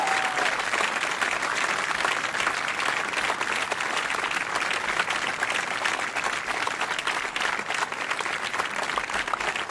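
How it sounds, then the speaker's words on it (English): Sustained applause from a crowd, dense and steady clapping throughout with no pauses, fairly loud and close. "I just want to give the community a round of applause."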